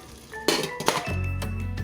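A lid goes onto a large casserole pot of chicken afritada with saba, giving two quick metallic clinks before a steady low hum of cooking takes over.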